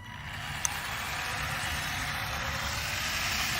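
A WLtoys RC car's electric motor runs at its lowest throttle setting, a steady close whir that holds evenly throughout with one brief click near the start.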